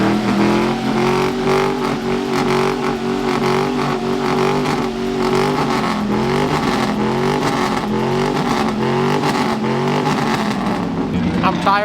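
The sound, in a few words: go-kart engine revving at truck meet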